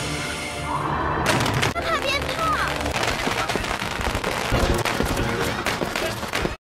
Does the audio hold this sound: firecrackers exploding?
yes